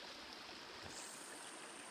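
Water in a stream bed flows with a soft, continuous rushing sound, faint and steady throughout.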